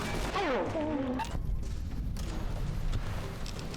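Anti-materiel rifle gunfire in the video game Fallout: New Vegas, a burst of sharp, heavy shots and booming reports, with a short tonal wail first and a rumbling tail after.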